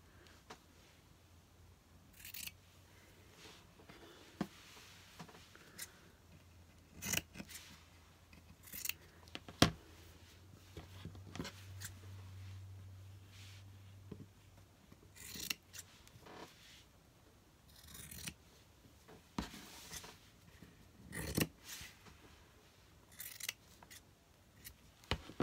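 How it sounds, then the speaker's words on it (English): Scissors make a string of sharp, close snips at uneven intervals while cutting small triangles from fabric for an ironing board cover, with quiet rustling between cuts. "go around and just cut like little triangles."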